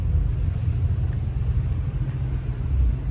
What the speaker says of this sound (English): More Porsches coming in.